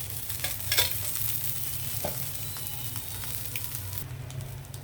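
Egg frying in oil in a pan, a steady close crackling sizzle that runs throughout with a few brief sharper spatters and no voices.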